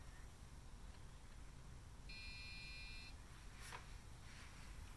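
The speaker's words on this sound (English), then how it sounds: "if you pass by these two diodes here, it'll set off an alarm" An IoT intruder alarm buzzer, tripped when someone passes two diodes, sounds once as a short steady electronic tone lasting about a second, faint over a constant background hiss.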